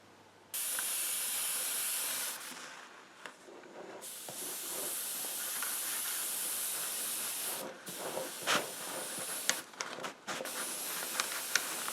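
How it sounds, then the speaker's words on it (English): An airbrush sprays Tamiya H25 sky blue hobby paint onto a masked model kit, producing long, steady hissing bursts broken by short pauses and a few faint clicks near the trigger. "I'm going to spray paint the blue, which happens to be a hobby colour H25, a sky blue"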